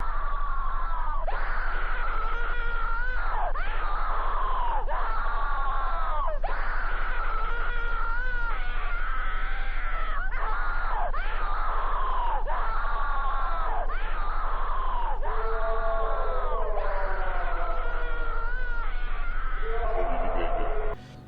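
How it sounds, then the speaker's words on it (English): A woman's agonized, blood-curdling screams repeat in a loop, about a dozen long anguished wails in steady succession, loud and close with no talk over them. "It's agonizing screams of a woman looped over and over again."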